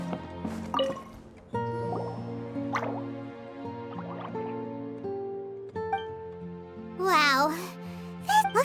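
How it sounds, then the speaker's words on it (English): Water droplets drip in Genshin Impact, soft plinking drops recurring over gentle tonal game sounds, with a voice speaking toward the end. "it sounds like a water droplet is on the second floor!"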